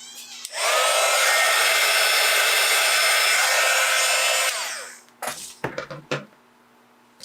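Heat embossing tool blowing hot air over stamped card for a slimline gnome card, a loud steady roar for about four seconds that cuts off, followed by a few handling clunks nearby.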